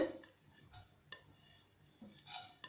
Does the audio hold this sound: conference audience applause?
no